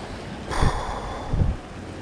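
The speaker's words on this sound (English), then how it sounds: "Gotta get past the waves breaking." Ocean waves wash and break against slippery volcanic rock on the shore at Kihei, Maui, with two soft surges rising over a steady rush of wind and surf, fairly close.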